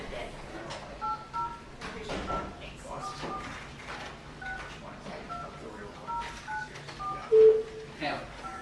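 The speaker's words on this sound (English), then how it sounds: "now we're learning to dial a phone today." Touch-tone dialing on a telephone in a legislative committee room, a few short steady tones spaced apart and mixed with room noise, chair and handling sounds, with one louder tone near the end.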